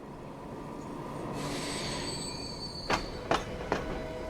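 A train runs in the Transport Fever 2 game as a faint, low rumble with a brief rising squeal, then three sharp clanks near the end.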